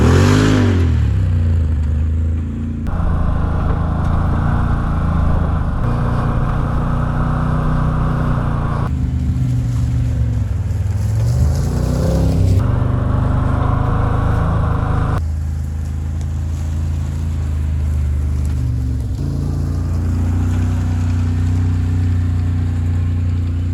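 A 2013 Ford Maverick engine with an electronic throttle body revs up and down in steady surges, close and loud throughout, with no talking over it.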